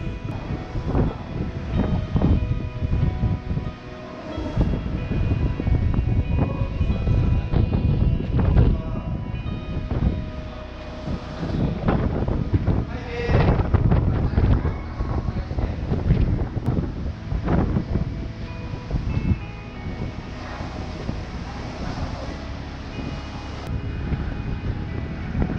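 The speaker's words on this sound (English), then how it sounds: "It's really windy up here." Strong wind buffets the microphone on a hilltop at the Latte Stone of Peace in Guam, a loud continuous roar with gusty surges throughout, no other sounds standing out.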